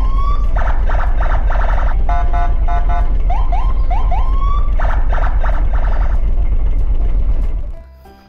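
Toy police escort car siren wailing loudly and close, repeated electronic whoops and rising yelps in a steady pattern, cutting off abruptly near the end.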